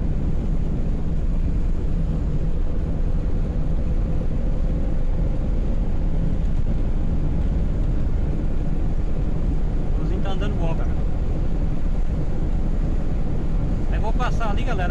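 A VW Gol CHT 1.6 engine pulls hard uphill on a mountain road, a steady, loud low drone with wind roar throughout and faint brief tonal sounds near the end.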